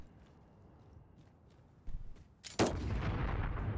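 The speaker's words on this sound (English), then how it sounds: "I just blew up one of his IEDs" An IED detonating in Call of Duty: Modern Warfare on PC, a sudden loud blast following a couple of smaller thumps, with a sustained rumbling roar lingering after the explosion.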